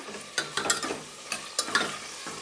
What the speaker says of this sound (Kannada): ಈ ಥರ ಮೀಡಿಯಮ್ ಫ್ಲೇಮಲ್ಲೇ ಸ್ವಲ್ಪ ಎಲ್ಲ ಕೈ ಆಡಿಸ್ಕೊಳ್ಳೋಣ